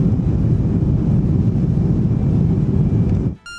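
Cubana Airlines Ilyushin Il-96-300 airliner on its takeoff run, a loud steady roar of jet engines heard from inside, abruptly cut off near the end.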